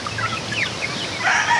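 Young game farm chickens cluck and peep softly nearby in a short burst of light calls over a low background hum.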